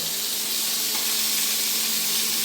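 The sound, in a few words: poma fish frying in a pan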